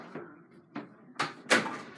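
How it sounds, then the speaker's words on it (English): An indoor door is pushed shut at home in a few soft thuds and bumps, ending in a firmer latch sound, fairly close and with no talking. "I'm shutting my door."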